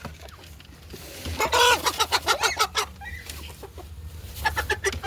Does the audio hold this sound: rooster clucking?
yes